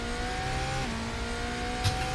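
Race car engine droning steadily through a pole lap at the Texas 200 endurance round, a sustained loud tone with shifting pitch and a brief sharp burst near the end.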